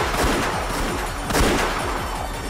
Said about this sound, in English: I heard the sound of repeated gunfire